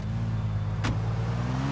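A car engine in Grand Theft Auto 4 hums steadily, then its pitch climbs slightly toward the end, with a brief sharp whoosh partway through.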